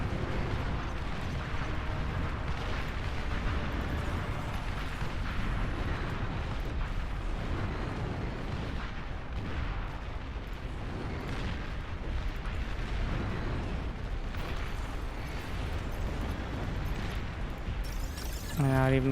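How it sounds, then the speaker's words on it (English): Missile tanks firing amid a large battle in the real-time strategy game Beyond All Reason, a dense, continuous roar of rocket launches and blasts running loud and unbroken from start to finish. "Missile tanks."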